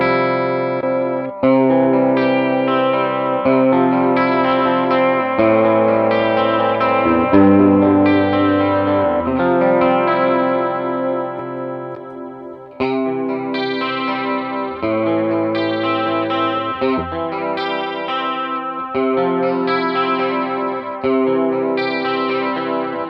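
Chase Bliss Warped Vinyl pedal with its tone knob turned fully up processes a warbling, chorused guitar chord progression, loud and continuous with slight distortion and echo, a brief dip before the phrase restarts.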